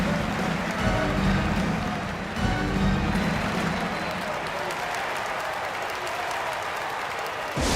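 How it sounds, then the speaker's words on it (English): Arena crowd in the NBA 2K24 basketball video game, Chicago Bulls versus Indiana Pacers during a timeout, cheering and applauding as a steady, dense roar that swells slightly and then eases into a lighter rustling murmur. "Here come your Indiana Coach Mates crowd. Give it up for him"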